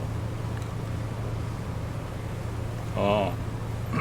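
A fishing boat with an upgraded engine pulls out of port at night in the game Fishing: North Atlantic. A steady low engine drone hums throughout, with a brief voice near the end.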